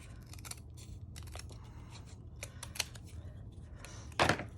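Scissors trimming the edge of paper scraps for a handmade junk-journal notepad, a series of short crisp snips and paper rustles up close, with a louder crunching cut near the end.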